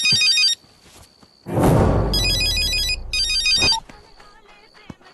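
A telephone ringtone chimes in repeated melodic bursts after a call is placed, loud and close, with a louder, noisier stretch of sound rising beneath it midway before fading to quiet.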